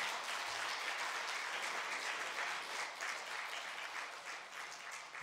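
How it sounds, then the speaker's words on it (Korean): Steady applause from a church congregation thanking a departing pastor, broad and even throughout, moderately distant and sustained without a break. "인사하고 들어가실 때 큰 박수 부탁드립니다."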